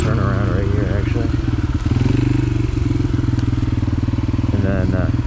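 A dirt bike engine revs and bogs continuously on a quick trail run, heard up close from the rider's position, with wind buffeting, clatter and thumps over rough ground.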